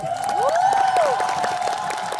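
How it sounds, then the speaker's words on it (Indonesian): A studio audience on a televised cooking competition applauds and cheers for the judges, with clapping and crowd noise running throughout and a rising, whooping voice on top. "tepuk tangan dong buat para juri"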